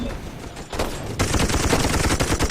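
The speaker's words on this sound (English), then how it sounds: "Let's put some more machine guns around." Machine gun fire from the Toy Soldiers video game: dense, continuous rattling bursts that swell louder partway through and keep up as a steady barrage with no talk.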